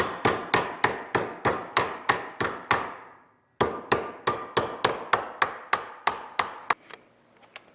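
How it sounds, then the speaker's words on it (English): Hammer blows ring out on a metal part clamped in a vise during a Bearhawk experimental airplane landing gear strut build: about eight sharp, close strikes in steady rhythm, a brief pause, then roughly nine more. "put it in the vise, I can tap the last bit of it"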